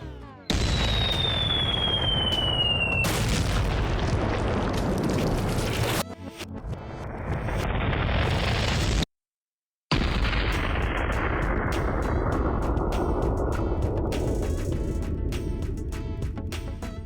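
A potato cannon fruit gun fires a pomegranate at glass, giving loud, close booming blasts and bursts, then a sudden silence before a long, decaying crash with scattering debris.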